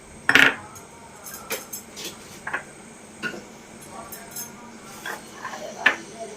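A spoon clinks and scrapes against a bowl while a potato filling for aloo paratha is mixed with chilli powder, salt and amchur powder, giving scattered, irregular taps that are sharpest near the start and again toward the end.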